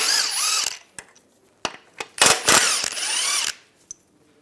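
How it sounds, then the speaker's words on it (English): A power tool with a 16mm socket spins bolts out of a Volkswagen Beetle's front lower control arm in several loud whirring bursts, broken by sharp metallic clicks and clanks. "Using a 16mm socket, take these out."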